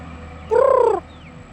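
A single drawn-out call from backyard-raised chickens, harmonic and clucking, rises briefly over quiet farmyard background and then fades.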